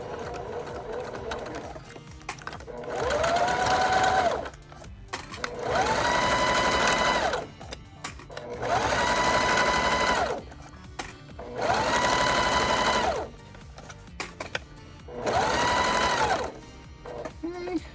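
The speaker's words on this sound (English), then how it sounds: "Keep it nice and flat and just go slow." A sewing machine stitching a bag frame slowly, running in five steady whirring bursts separated by short pauses, with a person talking in between.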